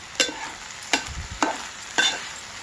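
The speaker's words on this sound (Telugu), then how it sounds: "ఇది ఆయిల్లో బిర్యానీ ఆకు కూడా వేసుకోండి ఫ్రెండ్స్" Bay leaf in hot oil for mint biryani: a soft continuous sizzle broken by four evenly spaced scraping stirs of a spoon against the pot, close and clear, no talking.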